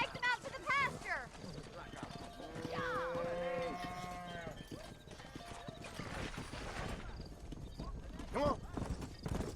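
Horse hooves clip-clop in the Western video game Red Dead Redemption, with neighs, cattle and cowbell sounds around them, while someone talks over the game audio.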